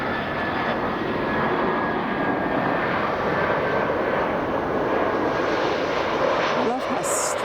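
An airliner coming in to land at Arlanda Airport in Sweden produces a loud, continuous engine roar that holds steady close by throughout.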